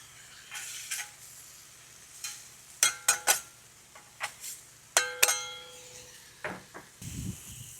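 Vegetables sizzling and being stirred on a Blackstone griddle for kung pao chicken, a soft steady sizzle broken by sharp metallic spatula scrapes and clinks against the cooktop, close and fairly quiet.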